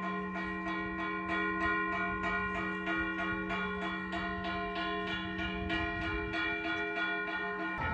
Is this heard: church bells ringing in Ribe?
yes